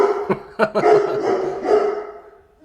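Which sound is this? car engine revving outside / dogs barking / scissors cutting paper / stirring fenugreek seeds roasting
dogs barking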